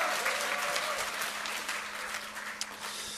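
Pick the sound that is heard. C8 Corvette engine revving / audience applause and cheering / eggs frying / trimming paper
audience applause and cheering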